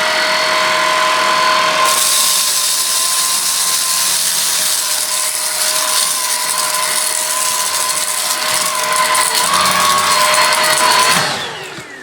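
A Tineco PURE ONE S12 cordless vacuum cleaner runs on auto mode, sounding as a loud, steady high-pitched whine with a faint tonal hum. It holds nearly constant before cutting off abruptly at the end.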